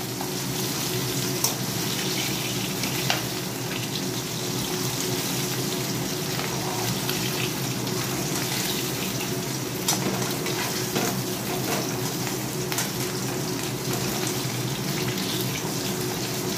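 Fish fries in hot oil in a home kitchen, a steady loud sizzle with scattered sharp pops and spits running throughout without pause.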